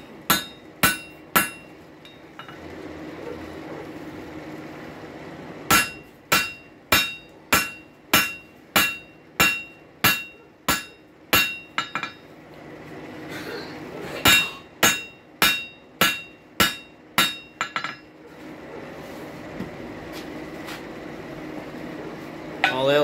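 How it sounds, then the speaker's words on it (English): Ringing metallic hammer blows on a rail spike against an anvil in quick, even bursts, pausing between sets, with a faint room hum underneath. "All else fails, use a bigger hammer."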